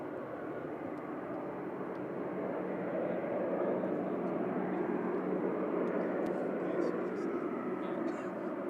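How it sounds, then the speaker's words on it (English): A KLM airliner lined up for takeoff at Manchester Airport gives a steady, broad engine roar that swells slightly and holds, heard from a distance. "KLM lined up, ready to go back to Amsterdam."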